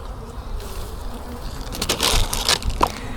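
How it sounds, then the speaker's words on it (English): Honey bees being shaken out of a hive box, a dense buzzing swarm with scraping and knocking rising in the second half, close and fairly loud with no talk. "So we shake those bees out"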